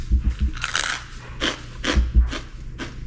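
Loud, close crunching of toasted bread croutons being bitten and chewed, several crisp crackling bursts in an uneven rhythm with no one talking.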